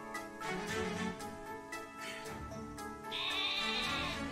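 A Wooloo, the woolly sheep Pokémon from the video game Pokemon Sword, bleats in a series of wavering, nasal cries, with a higher, sustained call near the end.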